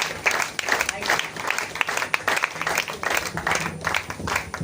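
At a Hindi kavi sammelan, an audience gives a poet a vigorous welcoming round of applause, with many hands clapping loudly and near, swelling and dipping slightly, and faint voices mixed underneath.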